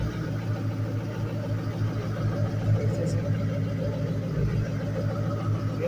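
A 2006 Ford Mustang GT idles steadily at close range, a low continuous engine rumble with even exhaust pulses and no revving.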